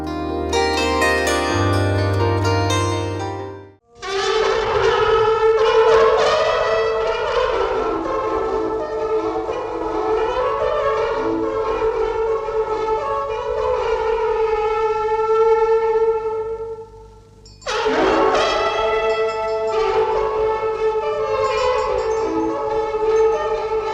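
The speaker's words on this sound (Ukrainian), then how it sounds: "Такий сумовитий, такий оксамитовий звук, власне, трембіти." Trembita, the long wooden Hutsul alpine horn of the Ukrainian Carpathians, plays a mournful, velvety sustained tone, loud and close, in long held phrases with a brief pause near the start and another near the end.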